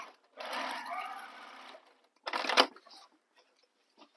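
A sewing machine stitches the side panel of a handmade bag, running in one steady buzzing burst of about a second and a half, then a shorter loud run after a pause, close by with no talk.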